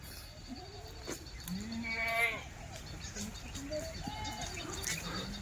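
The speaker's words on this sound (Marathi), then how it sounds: "बघा मित्रांनो शेळ्या." Goats bleat at a goat farm, several wavering calls close by over a steady background of farmyard noise, with fainter bird calls and brief quieter sounds mixed in.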